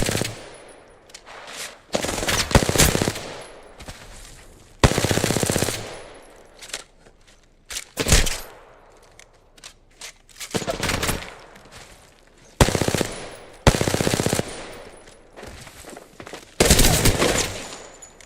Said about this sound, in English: Bullets are shooting.